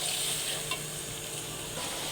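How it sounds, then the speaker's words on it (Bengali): Shing fish sauté with spices in a hot pan, a loud, continuous close sizzle broken by a brief stirring scrape, with no talk. "মশলার সাথে একটু ভালো করে কষাইয়ে নেব।"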